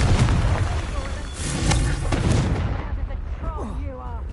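A Confringo fire spell blast in the Hogwarts Legacy video game, a cluster of rumbling bursts in the middle, then fading into softer chirping game effects.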